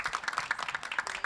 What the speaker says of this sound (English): A big round of applause for our panellists.